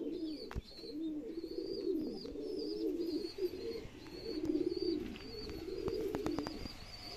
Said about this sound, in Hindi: देख लो भाई कितने क्वांटिटी में कबूतर है अपने पास